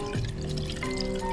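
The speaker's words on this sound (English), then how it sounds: "Next we'll take our julep strainer and just pour that in over the ice." An Old Fashioned cocktail is poured through a julep strainer over a big ice block in a glass, giving a short, soft liquid pour with a faint trickle up close.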